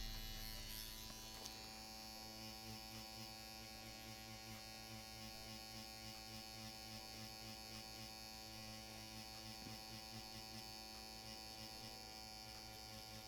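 A Mast Fold tattoo machine, Year of the Tiger Edition, runs at 4.2 volts with a steady, close electric buzz and a fast, even mechanical hum throughout, alone without talk.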